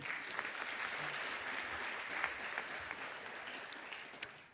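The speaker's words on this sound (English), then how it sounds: "Another round of applause for him." A crowd at a university graduation ceremony claps steadily for several seconds, a dense patter of applause with no voices rising above it.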